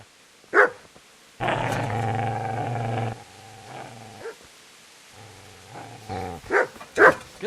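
A dog growls and barks in the medieval game Kingdom Come: Deliverance. A few sharp barks come first, then a long, loud, throaty growl. Shorter growls and barks follow, close and clear, with no talk over them.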